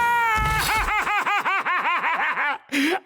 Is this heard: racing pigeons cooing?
no